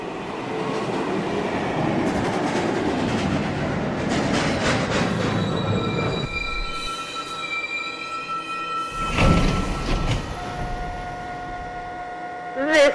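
An R62/R262 New York subway 1 local train rolls past loudly with steady rumbling and clatter, then sharp high wheel squeals ring out and linger as it slows in the station.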